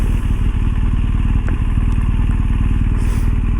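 An Adventure-model motorcycle cruises at 55 mph with the rider standing and visor closed, giving a loud, steady engine drone with heavy wind rush and a few faint clatters throughout.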